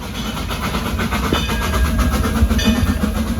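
A theme park train at Silver Dollar City rumbles past with a steady low engine drone and faint rhythmic clatter of wheels on the rails, continuous and moderately loud.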